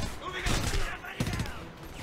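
Gunfire in the video game Homefront: a few sharp bursts of shots ring out close and loud, one cracking report standing out, mixed with a busy combat background and some talking.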